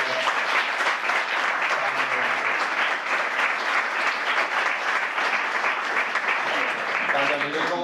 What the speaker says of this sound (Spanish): Yo creo que se merece un aplauso colectivo.